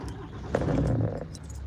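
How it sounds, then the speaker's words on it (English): An old fish truck's engine cranking and catching, a brief starter burst settling into a low running rumble, close by, with a faint jingle of keys. "let's start the old fish truck"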